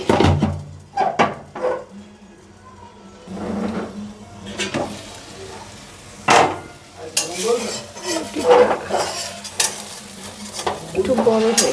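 Paratha cooking in ghee in a pan, with bursts of sizzling, utensil clatter and stirring scrapes that come and go. Scattered sharp knocks break in, and there is some quiet speech.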